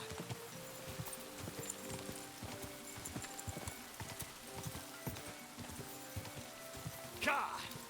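A horse gallops in Kingdom Come: Deliverance II, with steady rhythmic hoofbeats at close range throughout and a brief louder burst near the end, no talking.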